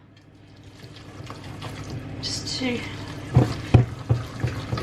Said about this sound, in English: So I'm going to just put a tiny bit of water, just like literally a drop of water there